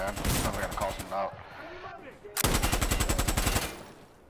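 Rapid automatic gunfire in a multiplayer shooter game crackles in two loud, close bursts separated by a brief quieter gap with faint background sound.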